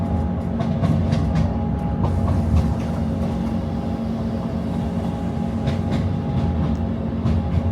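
A train approaching Dundee in Scotland rumbles steadily along the rails, with a continuous low roar, a faint tonal hum and occasional clacks, loud and close throughout.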